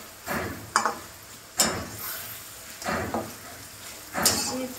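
Onions fry in a pan of ghee and white oil, a soft steady sizzle broken by several clinking scrapes of a spoon stirring against the metal.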